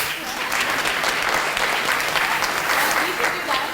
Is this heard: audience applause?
yes